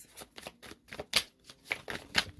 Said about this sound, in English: I don't like shuffling on camera because it takes forever